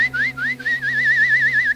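A person whistles a wavering, warbling tone into a microphone, imitating the excited whistling of a concert audience in South Africa, sustained for under two seconds with brief breaks and no talking.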